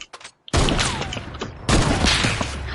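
Gunfire in the video game Fortnite, a couple of short sharp bursts followed by loud, dense rapid shooting and booming impacts, close and intense.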